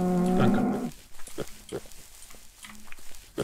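Cattle in the Minecraft-like game MineClone2 give a loud, drawn-out moo lasting under a second, followed by quieter scattered game noises.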